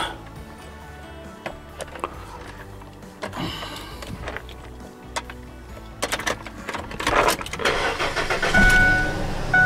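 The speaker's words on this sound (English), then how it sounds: "So we're gonna turn on the vehicle" A car that has just had a new radiator installed is started and left running. Faint clicks and ticks come first, then the engine catches with a louder rising roar and settles into a steady idle near the end.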